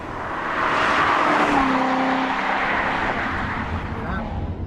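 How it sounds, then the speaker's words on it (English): A 2014 Chevrolet Corvette Stingray Z51 with a pushrod V8 drives past, its engine note swelling and rising in pitch, then fading away as the car recedes, fairly loud with a faint tire sound near the end. "This is the ultimate pushrod engine."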